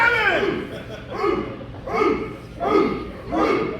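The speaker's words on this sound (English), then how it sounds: "And the barks from the crowd getting behind Blade Brown." A wrestling crowd barks in rhythmic bursts to rally behind wrestler Blade Brown, about five swelling, chant-like barks at an even pace, sounding like a massed group of voices in an arena.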